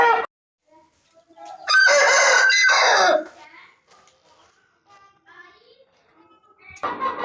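An Aseel rooster lets out one loud, close crow lasting over a second, followed by a few softer clucks and faint background sounds.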